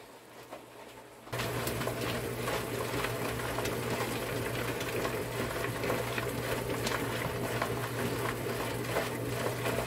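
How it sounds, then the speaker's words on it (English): A Lot-O vibratory rock tumbler in a double-barrel setup switches on after a quiet second and runs steadily, giving a continuous dense buzzing hum with rattling grit texture at an even level throughout. "And I will put this on the tumbler while I get the other one ready."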